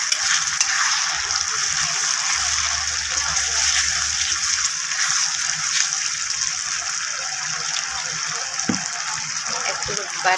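Ground ginger, garlic, cumin and spices fry in a pan with a loud, steady hissing sizzle that fills the whole stretch, while someone talks over it.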